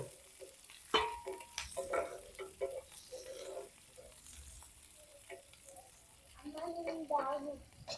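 Food frying in a pan for gongura boti pulav, a faint sizzle with scattered ticks and pops, quiet and close throughout.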